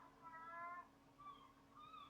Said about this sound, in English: You can hear the cat outside